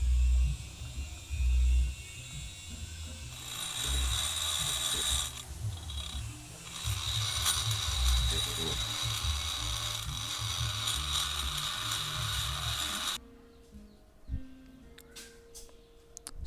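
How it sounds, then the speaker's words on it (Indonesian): Small rotary tuner bit grinding inside the narrow ports of a Suzuki Satria FU carburetor cylinder head, a steady high buzzing whine with shifting load for about thirteen seconds before cutting off, leaving faint handling clicks. "untuk bagian yang sempit, yang tidak terjangkau, kita pakai mata tuner yang kecil ya"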